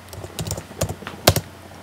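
Code being typed on a computer keyboard, a short run of distinct close key clicks in an uneven rhythm, a few keystrokes louder than the rest, with no talk.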